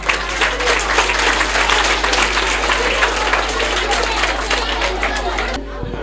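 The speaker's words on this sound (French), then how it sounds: "Il faudra applaudir ça encore une fois." Sustained crowd applause at a private school's year-end party in an HLM neighborhood, dense steady clapping with background chatter filling the space, continuing without pause before cutting off abruptly near the end.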